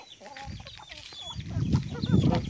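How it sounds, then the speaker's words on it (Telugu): A small flock of backyard chickens clucks close by in overlapping, uneven calls that grow louder and busier toward the end, with no talking. "ఈ కోళ్ళు మాత్రమే ఉన్నది"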